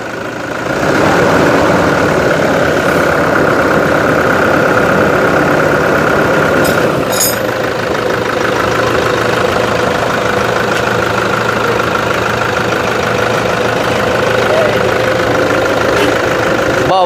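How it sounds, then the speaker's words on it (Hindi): A Toyota Fortuner SUV engine idles loudly and close up during servicing, with a steady, rough mechanical drone and faint knocking, continuing unbroken throughout. "पहले इंजन का साउंड सुनो।"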